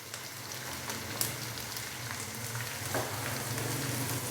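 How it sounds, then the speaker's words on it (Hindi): Ginger garlic paste frying in a karahi with oil, giving a steady close sizzle and crackle throughout with a few louder pops, no voices. "और हल्का सा हम इसको फ्राई करेंगे ताकि इसका कच्चापन ख़त्म हो जाए"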